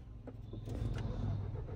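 A petrol Mahindra Scorpio N's engine cranks on its self starter and catches, a low rumble that rises after a brief quiet start and then holds steady nearby.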